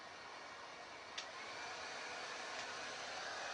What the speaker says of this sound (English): this is a heat gun. It's like a paint stripping heat gun.